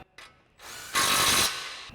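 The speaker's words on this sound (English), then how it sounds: "we'll tighten that back down with our 21mm socket on our impact" An impact wrench with a 21mm socket tightens a nut on a Ford F-150 suspension, giving a short whir followed by a louder, harsher burst of hammering, close and alone.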